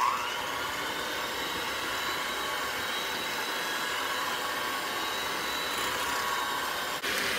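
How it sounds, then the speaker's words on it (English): An electric hand mixer runs on low speed through mashed potatoes mixed with milk, heavy cream and evaporated milk, giving a steady, even motor whir and hiss that holds unbroken and close throughout. "now we're going to switch from the potato masher to my hand mixer"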